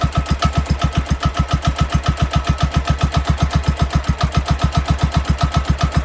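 A McCulloch M155B107HRB mower engine fitted with a new exhaust idles close by, a steady, fast, even thumping pulse that holds an unchanging rhythm throughout, with no voices.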